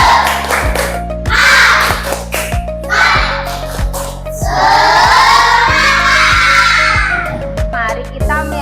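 Children's rhythmic clapping chant (tepuk semangat) led in an Indonesian classroom, with regular loud claps in a steady beat alongside chanted voices and a background hum.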